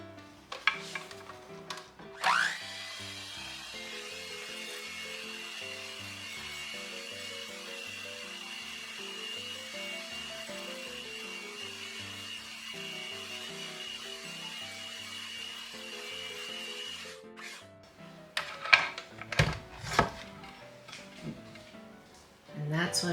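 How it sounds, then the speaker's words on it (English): A stand mixer with its whisk attachment whipping egg whites stiff for French macaroons, a steady whirring motor hum running for most of the stretch, with clattering kitchen sounds near the end and a voice talking over it. "I'm going to use my whisk attachment for my mixer to stiffen the egg whites"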